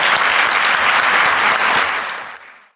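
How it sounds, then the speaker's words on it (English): An audience at a Holocaust art and writing contest awards ceremony applauds in a dense, loud, steady wash of clapping that tapers off and stops near the end. "Let's give them both another round of applause."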